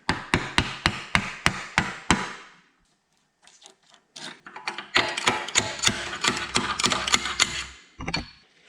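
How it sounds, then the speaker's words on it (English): A hammer taps the end of a Daikin heat pump's motor shaft in a quick, even series of sharp metallic strikes, a pause, then another longer run of rapid close-up taps. "I am going to have to tap on the end of that shaft a little bit"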